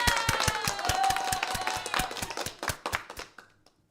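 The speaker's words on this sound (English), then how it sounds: "That means we give applause" A small group claps for the Logic Pro team, a few pairs of hands giving crisp, rapid applause close to the mic that quickly thins into scattered claps and stops within about four seconds.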